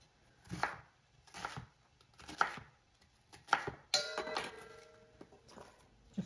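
Half of a large onion is chopped on a cutting board, heard as several close, crisp knife strikes in uneven bursts, with a faint metallic clink partway through and no voices.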